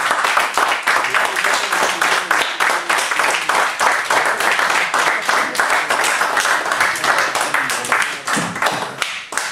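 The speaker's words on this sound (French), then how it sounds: "Acclamons très fort le Seigneur." A church congregation claps and applauds steadily and loudly, with rhythmic hand claps running throughout and voices faintly mixed in.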